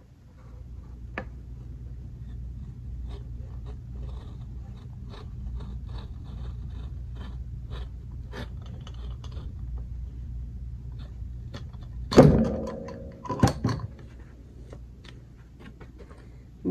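An old book's binding being cut while turning it into a journal: two brief, close scraping cuts near the end, standing out over a steady low rumble.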